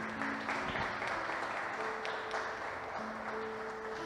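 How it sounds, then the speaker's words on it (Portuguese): A church congregation applauds at a Portuguese-language worship service. Steady, dense clapping continues at an even level with a faint tone sustained underneath. "Dê um aplauso para o Senhor por isso."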